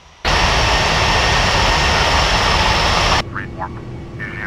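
Jet engines of a Korean Air Boeing 737 in Flight Simulator X give a loud, steady roar during takeoff, then cut to a quieter engine hum as radio chatter is heard.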